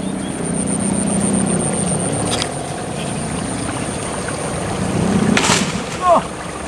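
A sendaren hummer on a layangan kite drones during its first test flight. The hum is steady and continuous, mixed with wind rumble, and a voice is faintly heard.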